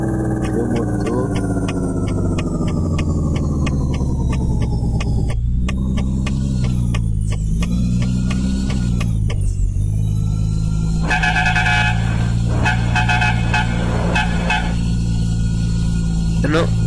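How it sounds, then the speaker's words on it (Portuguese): A heavy truck engine in a Euro Truck Simulator 2 sound mod rumbles loudly and continuously, its pitch rising and dropping with revs, while someone talks over it. "O motor."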